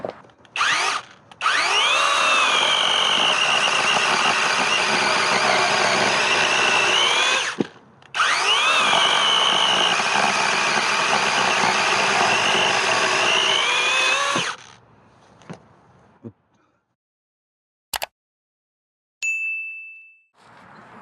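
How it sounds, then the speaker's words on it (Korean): A freshly sharpened cordless chainsaw revs loud and steady through two long cuts separated by a brief pause, then winds down, followed by a sharp metallic clank and a short ringing tone. "일단 충전톱을 다 갈았거든요. 그래서 한번 잘라 볼게요."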